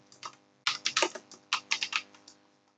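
Quick runs of keystrokes tap out on a computer keyboard, crisp and close, a brief pause then another burst, alone without speech.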